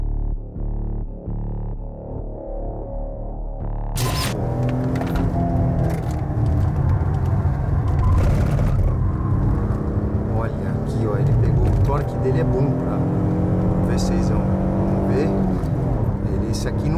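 Peugeot 306 GTi-6 hot hatch accelerating hard on a race track, heard from inside as a loud, rising engine roar that builds after a brief quieter stretch, with people talking and exclaiming over it.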